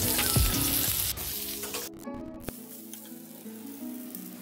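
Pieces of pointed gourd (potol) sizzle steadily as they fry in a little oil in a pan, loud at first and then a softer, continuous crackle, broken by a brief clatter of turning.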